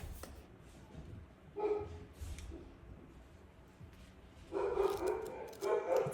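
A dog arriving home barks in short bursts, a few yips early and louder repeated barking near the end, set against quiet room ambience at moderate distance.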